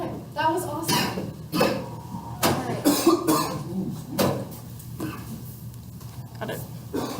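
A person coughs several times in short bursts, close and loud, mixed with bits of speech during a group marketing presentation.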